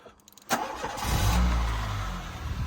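A Renault Clio engine cranks briefly and catches after a fuel filter replacement, then settles into a loud, steady idle close by.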